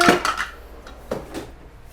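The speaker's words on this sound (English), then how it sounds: "So I'm just gonna give that a stir." A few clinks and scrapes of a utensil stirring pasta sauce with veggies in a pot, brief metallic knocks spaced unevenly, close by with no talking.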